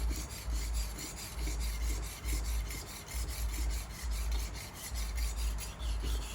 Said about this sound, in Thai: ให้ได้ยินนะครับว่าเป็นเสียงของการ รับมีด